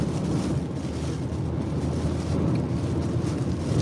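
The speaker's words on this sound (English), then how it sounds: "Crazy amount of wind." Hurricane Beryl's winds gusting in Texas at around 70 to 80 mph, a dense, loud, unbroken roar of wind buffeting the microphone throughout, with no voices.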